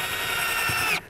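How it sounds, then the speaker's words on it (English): A power drill whirs steadily as it drives a screw into a kayak hull while mounting a gear track, one sustained high motor whine that cuts off abruptly at the end. "drill it in, take my other screw,"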